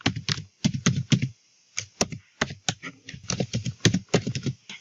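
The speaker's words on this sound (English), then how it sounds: "So type in the email address over here." Fingers tap out an email address on a computer keyboard in clustered bursts of crisp, close clicks, separated by short pauses, with no talking over them.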